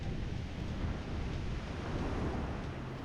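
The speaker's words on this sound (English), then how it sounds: "Oh, much more waves here." Steady broadband roar of surf washing in on a Tahitian beach, constant and fairly loud, with wind noise buffeting the microphone throughout.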